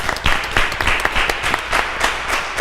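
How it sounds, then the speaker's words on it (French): Short burst of audience applause at a student testimonial evening, a few quick distinct claps over a brief spell, fairly close and loud. "On va applaudir les deux"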